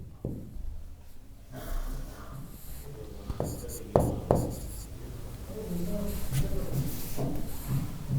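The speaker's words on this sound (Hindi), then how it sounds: "इधर लिख देता हूं मैं" Marker or chalk writing on a classroom board during a biology lecture on cell replication, a few short scratchy strokes close by, with a teacher talking over and between them.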